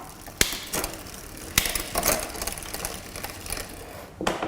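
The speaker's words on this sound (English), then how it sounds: "you want to run through all the gears and just make sure they're smooth" A mountain bike drivetrain running through its gears, with a dense, steady ratchet-like ticking of the chain and freehub and sharp clicks at each shift, close and loud with no voices.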